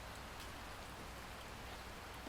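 Steady, even rainfall with a dense soft hiss of drops on surfaces, constant and unbroken, with no voices or other sounds standing out.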